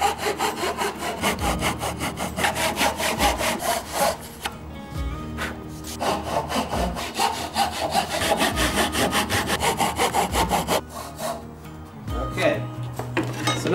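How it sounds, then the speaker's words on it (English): A hand saw cuts a wood mortise for a bridle joint: close, steady back-and-forth rasping strokes in long runs, with brief pauses between bouts. "Now we're going to cut out the mortise part."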